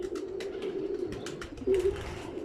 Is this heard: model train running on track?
no